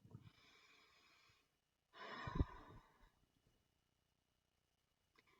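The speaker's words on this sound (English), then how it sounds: "Deep breath." A person takes a deep breath, a soft drawn-out inhale followed after a short pause by a louder, fuller exhale, close and quiet in an otherwise still room.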